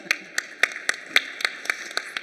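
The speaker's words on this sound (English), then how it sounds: "Can we give her a round of applause, please?" An audience applauds at a tech conference panel on women in technology, a sparse run of about ten distinct claps at a steady rhythm, fairly close.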